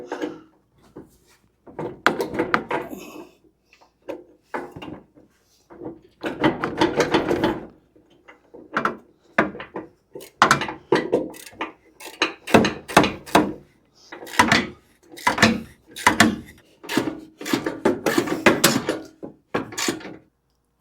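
Repeated ratcheting bursts, close and crisp, as a bumper mount on an OBS Ford pickup is cinched down, with short pauses between strokes and no talking.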